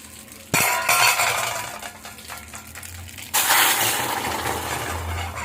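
Hot cumin and asafoetida tempering poured into cooked dal, giving a sudden loud sizzle that settles, then a second bright hissing burst, with kitchen clatter beneath.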